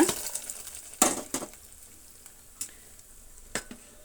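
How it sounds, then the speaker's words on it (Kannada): Short bursts of sizzling and crackling from hot tempering poured into drumstick sambar, with a few sharp clinks of metal utensils against the pot, close by. "ಆ ಒಗ್ಗರಣೆನ ಪಾತ್ರೆಗೆ ಸೇರಿಸೋಣ"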